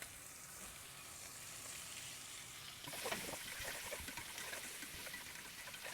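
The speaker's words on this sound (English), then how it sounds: "now we're gonna saute us some onions in this" Onions sautéing in leftover country fried steak grease, a soft steady sizzle that swells louder and more crackly partway through as they are stirred.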